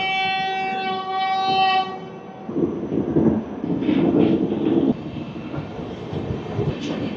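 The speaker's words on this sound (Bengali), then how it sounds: "আমাদের ট্রেনের সিগন্যাল হয়ে গেছে, এবার রওনা দিচ্ছে" The Hirakhand Express train sounds a long, loud horn blast as it sets off from a station in light rain, followed by rumbling and clanking of the wheels and carriages.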